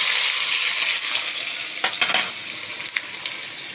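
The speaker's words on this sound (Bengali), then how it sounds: "এবার আমি পেঁয়াজটা ছেড়ে দেবো তেলের মধ্যে।" Onions fry in hot oil with black cumin for a loté (Bombay duck) do pyaza. A loud, dense, continuous sizzle fills the whole clip, broken by a few brief clatters of stirring.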